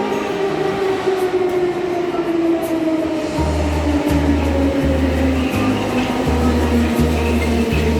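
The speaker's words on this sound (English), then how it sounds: "Listen to the beautiful sound of this old train passing by." An old train passes close by at a Moscow metro station, a steady low rumble with a droning tone and rhythmic clacking of wheels over rail joints building through the second half.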